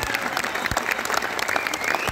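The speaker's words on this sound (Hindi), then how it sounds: "एक बार जरा खुल के मेरे सम्मान में तालियां वालियां बजा दो" An audience at a Holi poetry gathering breaks into sustained, dense applause, loud and close, with a crowd murmur underneath throughout.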